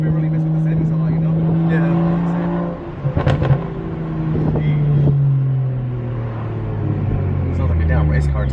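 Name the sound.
BMW N54 engine exhaust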